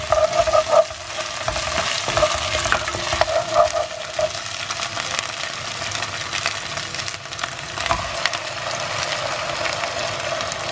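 Chicken pieces fry with ginger garlic paste in a pan for a spicy chicken masala, a steady close sizzle laced with repeated scraping stirs and clatters, no voices over it.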